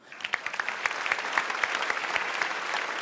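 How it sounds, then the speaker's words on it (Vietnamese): After a couple's dance performance on a televised dance competition, the studio audience breaks into applause that builds from a few sharp claps into dense, steady clapping, loud and close. "một tiếng vỗ tay cuối cùng"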